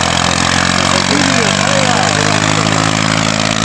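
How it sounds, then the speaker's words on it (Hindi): A tractor engine rumbles steadily along a snowy mountain road, a constant low drone that holds through the whole moment with faint background noise. "पीछे ट्रैक्टर जा रही है"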